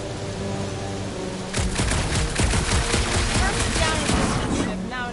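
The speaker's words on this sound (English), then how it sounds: "A couple of shots should bring it down." Rapid gunfire in the Guardians of the Galaxy video game, aimed at a gunked-up reactor, bursting in after a quieter first second and a half and continuing as dense repeated shots over game sound, with voices talking.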